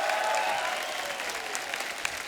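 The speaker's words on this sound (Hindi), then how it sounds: "Anna के लिए एक बार जोरदार तालियां बजाएं" A studio audience at a Hindi television comedy show breaks into loud, sustained clapping that tapers off slightly over a couple of seconds, a dense crowd applause.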